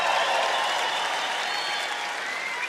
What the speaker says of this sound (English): Thank you for those of you applauding that